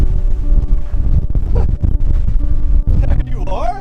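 Strong wind buffets the microphone in loud, continuous gusts on top of a hilltop fortress in Monemvasia in the Peloponnese, Greece, with rumbling low roar throughout and voices talking briefly near the end.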